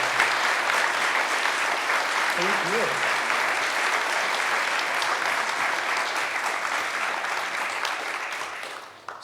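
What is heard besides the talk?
audience applause at candidates forum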